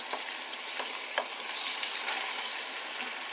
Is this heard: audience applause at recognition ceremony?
no